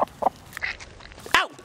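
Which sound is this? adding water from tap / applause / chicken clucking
chicken clucking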